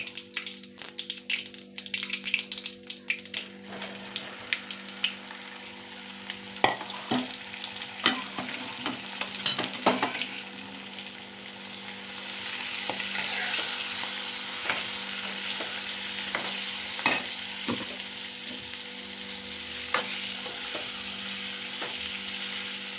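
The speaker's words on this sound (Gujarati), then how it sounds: "ભરેલ ભીંડાનું શાક વઘાર થઈ ગયો છે" Stuffed okra curry sizzles steadily in hot oil as it is tempered, with a continuous frying hiss and occasional stirring taps from a utensil against the pan.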